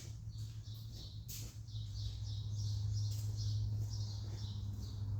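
Rapid repeated chirps and scratchy fluttering from a bird trapped inside a truck's tailpipe, muffled and echoing through the metal pipe over a low steady hum, no talking.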